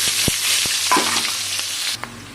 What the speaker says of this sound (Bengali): তো এই তেলেতে দিয়ে দিচ্ছি পেঁয়াজ কাটা